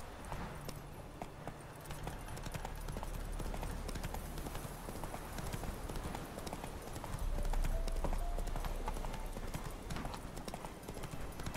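Horse hooves clip-clop steadily in The Witcher 3: Wild Hunt as the rider's horse moves along, the rhythmic footfalls layered over continuous game ambience and music at moderate level.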